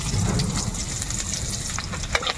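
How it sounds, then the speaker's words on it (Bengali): Chopped onions hit hot oil in a wok with a loud, dense sizzle and bubbling, with a few sharp clinks of stirring near the end, all close and continuous. "এবার দিয়ে দেব ফোড়নে কুচিয়ে রাখা পেঁয়াজ।"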